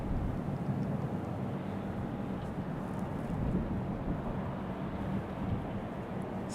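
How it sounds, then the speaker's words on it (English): Republic Airways Embraer E175 jet arriving at Raleigh-Durham from LaGuardia, a steady, fairly faint low rumble of jet engines spread evenly throughout with no talking. "Our next arrival is Republic Airways 4560 coming in from LaGuardia, New York"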